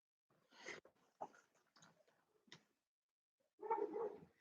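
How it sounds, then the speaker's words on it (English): A dog barks somewhere in the house, faint and distant, in a few short broken bursts followed by a longer, rougher outburst near the end, with quiet gaps between them. "I think my dog's barking."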